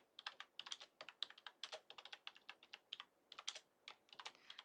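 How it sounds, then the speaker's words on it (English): Fast, steady typing on a computer keyboard as a quiz question is entered, with dense, crisp key clicks throughout, close and soft, and no speech. "And we type in our first question."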